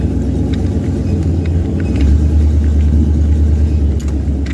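A work truck with a recently replaced battery and a faulty exhaust drives steadily out a back way toward a scrapyard, its engine giving a continuous low rumble and drone heard close up from start to finish.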